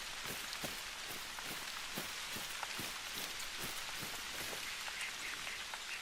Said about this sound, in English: Get another rainstorm.